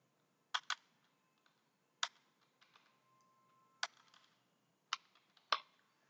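Sparse keystrokes on a computer keyboard while typing text into MS Word: a handful of sharp, quiet clicks spaced irregularly over near silence.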